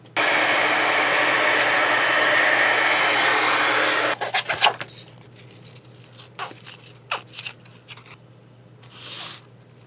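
A hair dryer runs loud and steady for about four seconds, drying a layered paper craft cover for a fish-themed book. It then cuts off, and scattered rustles, taps and paper handling follow before a brief soft whoosh near the end.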